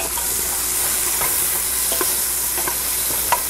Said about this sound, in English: add a little bit of salt just so that it draws the moisture out of the onions and the onions will start to sweat